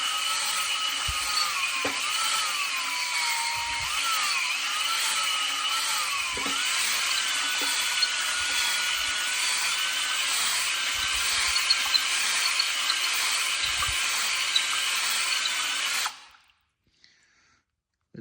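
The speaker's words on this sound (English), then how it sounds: "I'm trying to match the movement up and down to the speed of the drill to get a nice crisscross pattern inside the liner" Drill spinning a hone inside an engine cylinder liner for a Massey Harris 555 diesel tractor, a continuous high whining grind with slight pitch wavering and faint rhythmic knocks, then cutting off abruptly near the end.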